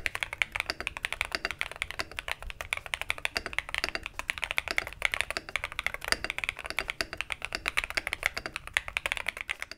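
Rapid, continuous keystrokes on an Epomaker Brick87 mechanical keyboard with lubricated linear switches, close-up and even in rhythm, with no talking.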